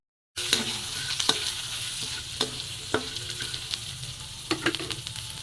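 Tofu and corned beef fry in a pan with a steady close sizzle, broken by a few sharp scraping and stirring clicks, and no talking over it.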